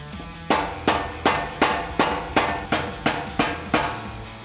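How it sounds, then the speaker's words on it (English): A steel pry bar strikes and levers a folded-over tab on a Toyota Tacoma skid plate, giving ten sharp, evenly spaced metallic hits about every 0.35 seconds, close and clear with nothing else heard. "I'm just going to pry that back with a pry bar"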